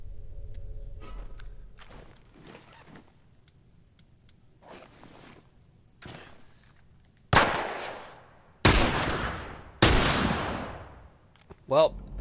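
Rifle gunfire in the video game The Last of Us: three loud, close shots with long ringing tails, spaced about a second apart after a stretch of quieter clicks and faint movement, then a brief sharp burst at the end.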